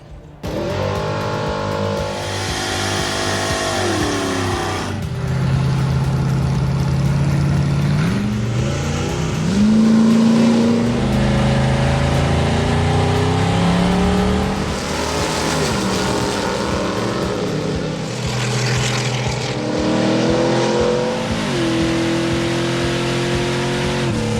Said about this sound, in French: un petit reminder des courses d'accélération qu'on a faites l'an dernier grâce à Ross Valley